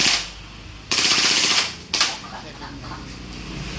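An airsoft Glock 18C pistol fires on rapid mode in two short bursts of fast mechanical clatter close to the microphone, with a brief pause between them and a low background hum after.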